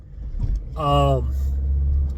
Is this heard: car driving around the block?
yes